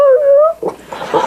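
A pet dog vocalizes in a drawn-out, rising and falling whine-howl that mimics the phrase "I love you," followed by softer, broken yips and whimpers, close and fairly loud, with no talk.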